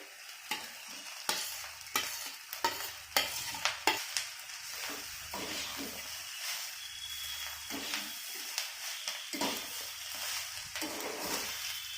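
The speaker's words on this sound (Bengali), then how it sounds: "আবার একটু ভেজে নেব এটা দিয়ে" Egg mixture for moghlai paratha frying and being stirred in a pan, with a steady close sizzle and repeated sharp spatula scrapes and taps in quick bursts, no voices.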